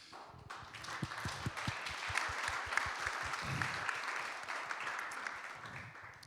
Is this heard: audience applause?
yes